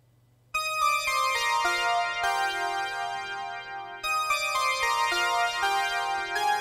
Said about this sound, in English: we use the Alpha Juno with a bell type sound